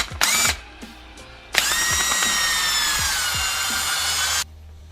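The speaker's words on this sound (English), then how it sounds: "let's torque down that valve cover." Power tool whirring while torquing down the valve cover bolts on a Honda engine: short bursts of spinning and ratcheting, then one long steady run of several seconds at close range, ending abruptly.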